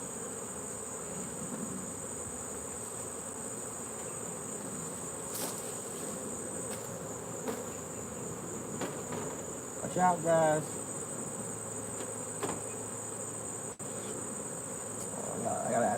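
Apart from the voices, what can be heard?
honeybees buzzing around an open hive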